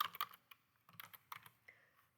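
A few quick keystrokes are typed on a computer keyboard in a spreadsheet, giving soft, close clicks in short bursts with small gaps and a quiet background.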